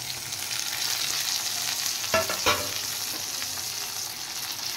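Chopped tomato and green chilli fry in a pan for dal curry, giving a loud continuous sizzle with a couple of brief stirring scrapes near the middle.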